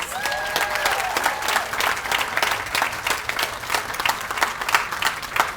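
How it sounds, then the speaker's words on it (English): A garden party crowd applauding the staff of a community support center, with sustained, lively clapping throughout, a few sharper claps standing out near the front. "I would love a round of applause for the Moore Center employees"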